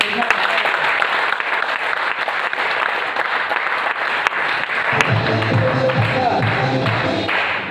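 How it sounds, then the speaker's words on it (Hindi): An indoor audience at a meeting or program claps steadily, a dense loud patter of many hands throughout, with a voice calling out over the applause. "एक बार ताली बजा के बताएं सर"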